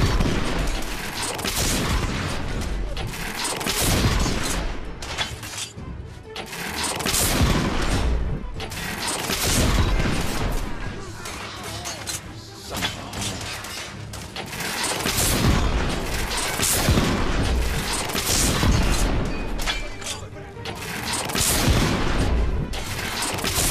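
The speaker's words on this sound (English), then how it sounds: "We are witnessing heavy artillery fire at the moment." Heavy artillery fire in the video game The Order: 1886 rolls on as a loud, continuous barrage of booms and crashing explosions, swelling and easing in dense waves.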